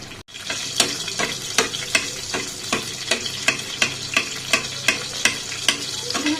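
Eggs being stirred in hot oil in a pan, with a steady soft sizzle under regular scraping strokes of a utensil, about two per second, close and clear with no talk.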